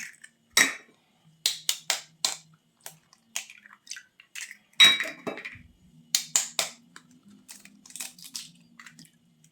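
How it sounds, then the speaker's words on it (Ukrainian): Three eggs cracked into a bowl, a series of sharp close clinks and taps with shell cracks and small knocks scattered across several seconds in a quiet kitchen. "Беремо три яйця, вбиваємо три яйця."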